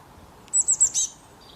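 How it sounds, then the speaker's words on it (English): A short, bright robin phrase of four quick high notes, clear and close, over a quiet background. "no video would be complete without showing the robin"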